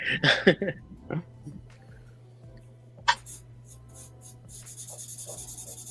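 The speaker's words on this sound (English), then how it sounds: "with every episode we just hear like tools on paper" Pen and pencil strokes scratch across paper while someone draws ink artwork, a few close rubbing bursts early on followed by quieter scattered scrapes and a steady faint rasp.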